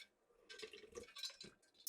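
A magical water spell effect from a fantasy sorcery sound library plays at low level: splashy, dripping liquid bursts and watery impacts in a quick irregular cluster, ending in a sharp bright splash.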